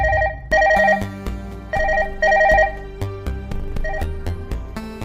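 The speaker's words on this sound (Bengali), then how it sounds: "এই টাইমে আবার ফোন করে কেন রে?" A telephone rings with a repeated electronic melodic tone in bursts, loud and close, with no talk over it.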